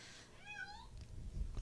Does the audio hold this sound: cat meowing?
yes